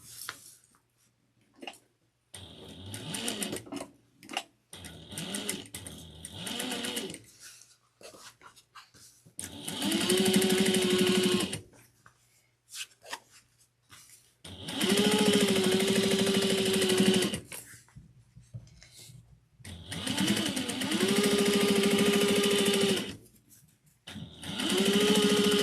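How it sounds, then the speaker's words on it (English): A sewing machine top stitches at 1/8 inch on a slouch bag in several bursts of steady whirring, each a few seconds long, separated by quiet pauses and handling of the fabric. "Then we're going to top stitch this at 1/8 of an inch."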